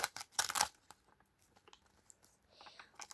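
A paper surprise packet is torn and crinkled open nearby, giving a few quick, sharp rips early on followed by softer, scattered rustling and crinkling.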